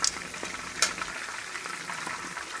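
Hot wing ingredients browning in a frying pan as they are mixed, a continuous crackling sizzle broken by a couple of sharp scraping and stirring clicks.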